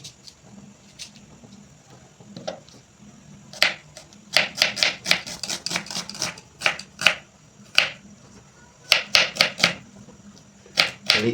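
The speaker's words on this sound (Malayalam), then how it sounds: "ഇനി നമ്മൾ ഇതിലേക്കുള്ള ഉള്ളി തക്കാളി എല്ലാം വെട്ടിയെടുക്കുകയാണ്" A knife chopping onions and tomatoes on a board, sparse cuts at first, then quick bursts of close, crisp rhythmic chops with brief pauses between runs.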